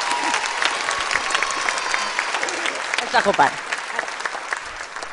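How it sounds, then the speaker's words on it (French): A French television studio audience claps loudly in a steady, dense wash of applause, with a voice speaking briefly over it. "On peut l'applaudir très fort"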